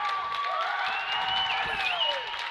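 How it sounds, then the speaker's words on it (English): Fans clap and cheer in a gym at a Latta at Dale girls basketball game in its final seconds, a steady crowd roar with sneaker squeaks over it and a commentator talking throughout. "There's a lot of standing and clapping."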